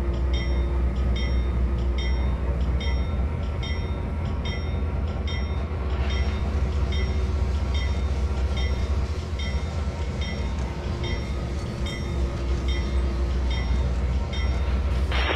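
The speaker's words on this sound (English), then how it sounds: "So this train technically just came off" A freight train runs in the Trainz railway simulator game, a steady loud rumble of wheels and engine drone with repeating rhythmic clicks over rail joints, continuous and close throughout.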